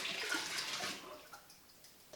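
Fresh water splashing and rushing as a yeast container is rinsed during vodka making, a brief burst of running water that fades to quiet dribbles and small knocks.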